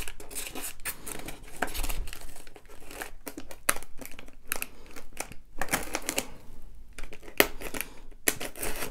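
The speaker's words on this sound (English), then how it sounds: "We're just going to cut the tape." Packing tape on a shipping box is cut and pulled, a close run of crinkling, scraping and tearing sounds with sharp clicks, busy and continuous.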